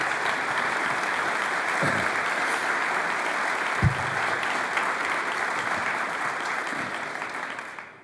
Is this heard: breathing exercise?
no